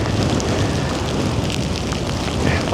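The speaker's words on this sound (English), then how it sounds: "But geez, that rain." Heavy rain and gusting wind batter a mountainside on the Old Man of Coniston, a loud, dense roar close to the microphone with no voices.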